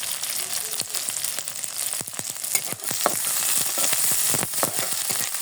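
Half a cup of onions and six or seven green chilies fry in a pan until browning, for a tomato rohu fish bhuna. A steady, close sizzle runs throughout, crossed by frequent sharp crackles and stirring clicks.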